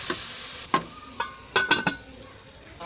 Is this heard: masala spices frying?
yes